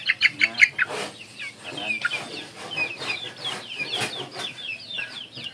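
Chickens cluck in a busy, overlapping chorus, with several sharper calls near the start and steady clucking continuing throughout.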